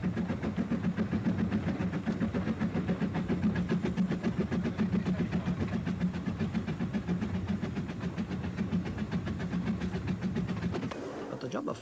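A Welsh narrow gauge steam train rumbles past with a steady low mechanical drone and faint rhythmic clatter from the wheels. The sound stays continuous and moderately close, then cuts off abruptly near the end.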